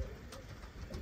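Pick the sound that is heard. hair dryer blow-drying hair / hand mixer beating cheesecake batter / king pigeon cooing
king pigeon cooing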